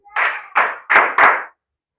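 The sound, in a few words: congregation clapping in praise at church service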